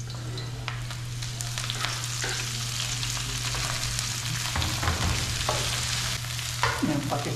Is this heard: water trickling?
no